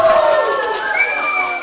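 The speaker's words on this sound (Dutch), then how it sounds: "mag ik een groot applaus van de zaal" Wedding guests at a party in De Knuffel, Emelgem, cheer with shrill, rising whoops over a bed of crowd noise, while clapping underneath is not clearly distinct.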